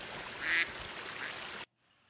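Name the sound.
duck quacking in a video game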